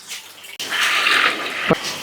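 Water pours steadily into a pot of pineapple for about a second, a bright splashing stream that stops abruptly with a small clunk.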